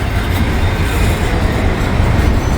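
A train crawling slowly along the rail line, with a steady loud low rumble of wheels and cars filling the clip, no voices.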